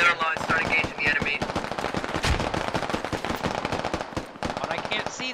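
Rapid automatic gunfire in the military video game Squad lays down suppressing fire, with dense, loud, close bursts and overlapping distant shots, and voices talking over the shooting.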